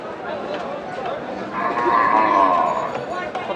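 Red Sahiwal cattle at a busy village livestock market, with a long, drawn-out moo rising above steady crowd chatter and nearby voices.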